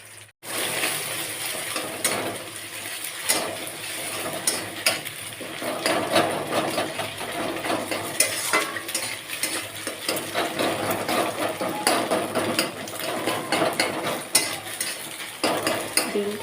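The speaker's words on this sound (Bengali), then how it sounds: "আমার সবজিগুলো ভালো করে ভাজা হয়ে গেছে এবার আমি এর ভিতর দিয়ে দেবো ডিম" Egg goes into vegetables frying in a pan, with continuous light crackling sizzle and repeated metallic scraping and tapping from a utensil, close and fairly steady.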